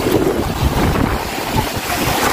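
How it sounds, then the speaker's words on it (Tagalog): Loud, continuous crashing of ocean waves mixed with heavy wind buffeting the microphone, without pause. "ang lalaki ng alon"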